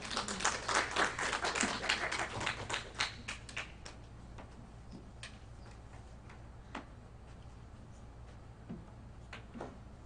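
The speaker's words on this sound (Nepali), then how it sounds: "हामी ताली लगाएर उहाँलाई स्वागत गरिकन" Church congregation at a Nepalese fellowship Sunday service applauding to welcome the deacon, a burst of many hands clapping at the start that thins out to scattered claps and fades.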